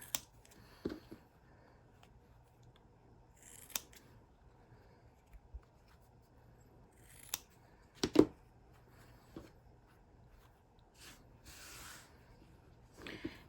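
Scissors trim the corners of sewn fabric quilt pieces for a squirrel quilt block, giving a few quiet, scattered snips and rustles against an otherwise near-silent room.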